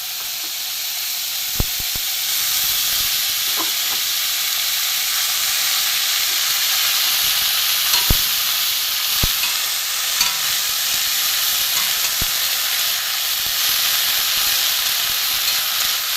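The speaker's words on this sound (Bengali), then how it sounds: "এখানে আমি প্রথমে ফুলগুলো আমি ভেজে নেব।" Drumstick flowers fry in a pan, a loud, steady hiss of sizzling oil with occasional faint clicks of stirring throughout.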